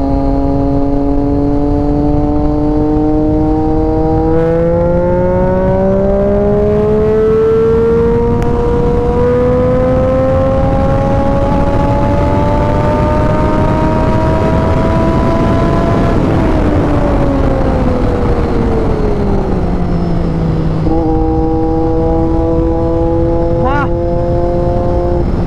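A Triumph Daytona 675 motorcycle with a modified exhaust rides past loudly, its engine pitch rising steadily as it pulls through a gear, easing off, then climbing again, with someone talking over the close roar.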